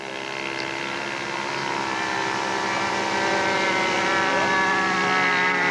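Model airplane with an OS 90 four-stroke engine, an 8-foot wingspan de Havilland scale build, taking off: a steady, loud, buzzing engine drone that holds a constant pitch and grows slightly louder throughout, with no talk.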